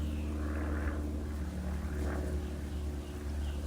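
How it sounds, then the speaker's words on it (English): Propeller airplane passing overhead outside an artist's studio, a steady low droning hum with a faint rising and falling whine, continuous and moderately distant, with no talking. "I'm gonna let this plane pass really quick."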